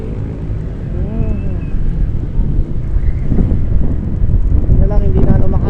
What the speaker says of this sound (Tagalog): Medyo may hangin.